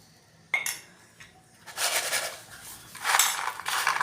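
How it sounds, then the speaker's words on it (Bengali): A spoon mixing homemade spice masala into freshly fried food, a light metallic clink followed by bursts of scraping and tossing against a bowl, close and moderately loud. "এই মশলাটি এখন আমি মিশিয়ে নিব"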